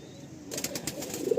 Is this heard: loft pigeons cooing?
yes